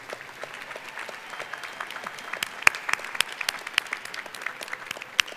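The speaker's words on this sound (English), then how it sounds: "Please join me in a round of applause for the graduates." Graduates at a college diploma and awards ceremony receive a round of applause from the audience, a steady bed of clapping with sharper individual claps popping out, moderately close and without speech.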